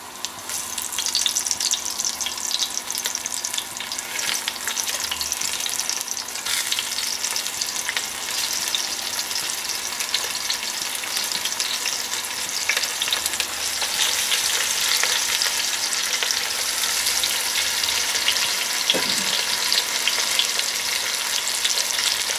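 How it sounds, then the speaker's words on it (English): Flour-dusted rabbit pieces brown in olive oil for a rabbit stew, giving a loud, continuous close-up sizzle and crackle that holds steady throughout with a few faint stirring sounds. "we'll just brown the rabbit off that I've just dusted in that seasoned flour"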